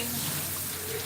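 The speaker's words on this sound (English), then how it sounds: "I'm just rinsing some stuff." Tap water running steadily into a sink while ingredients for a green banana, plantain and oat porridge are rinsed, a continuous close splashing hiss with no talking.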